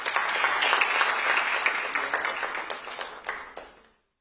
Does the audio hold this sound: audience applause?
yes